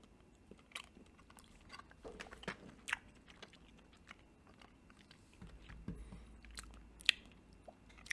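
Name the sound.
biting and chewing a Sugar Plum PB&J snack bar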